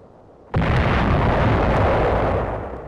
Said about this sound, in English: Pillboxes and hillside caves are reduced with hand grenades and bombs.